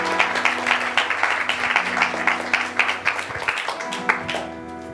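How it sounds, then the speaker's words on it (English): Applause from guests at a wedding ceremony, a steady wash of clapping with some voices mixed in, fairly close and continuous for the whole stretch before tapering near the end. "Please give them a round of applause."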